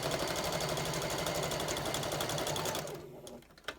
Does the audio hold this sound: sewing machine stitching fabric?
yes